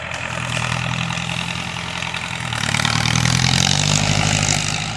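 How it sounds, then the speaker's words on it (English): Log skidder dragging a sugar maple log at a timber harvest, its heavy diesel engine rumbling steadily close by and then revving louder partway through. "He's skidding up this sugar maple."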